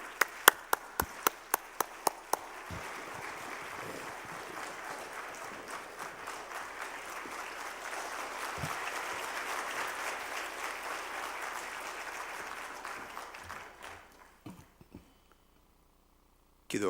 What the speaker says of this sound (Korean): 나오실 때 우리 뜨거운 박수로 환영해 주시면 감사하겠습니다